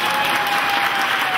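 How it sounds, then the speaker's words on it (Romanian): Audience applause at a live Romanian comedy show of jokes, a dense, steady wash of clapping that holds at even loudness throughout, with no voices standing out above it. "mulțumesc pentru aplauze"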